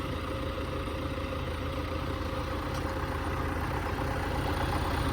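An MTZ-892 tractor engine idles steadily with a low, even rumble and light mechanical clatter, close and constant throughout with no voices.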